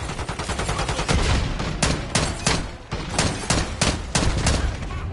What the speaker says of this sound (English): I'm just blindly firing, hoping that the person I'm shooting at will turn the corner